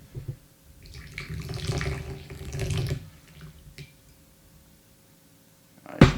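Hot water pours onto tea leaves to rinse them, a soft splashing stream that builds for a few seconds and then trails off, followed by a quiet pause and a sharp clink at the end.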